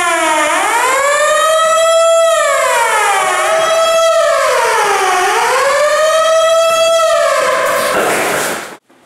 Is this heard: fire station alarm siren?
yes